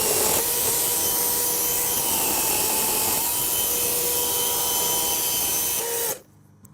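A chainsaw cuts steadily through wood in a loud, continuous whine that holds for about six seconds, then stops abruptly, leaving near silence.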